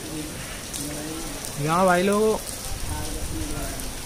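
Heavy rain pours steadily as a continuous broadband hiss through the whole stretch, with someone talking briefly over it partway through.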